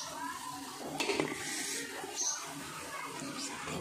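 A spoon stirs rice flour into a boiling, foaming mixture of sesame and lentils in a pot, giving soft scraping and clinking against the pan with bubbling underneath, fairly close and continuous.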